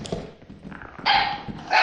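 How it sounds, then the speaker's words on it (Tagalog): A puppy barks twice in short, loud bursts, with quieter yips and rustling between them, heard up close during a game. "ang ingay ng tuta ko kung ano-ano yung kinakawalan eh"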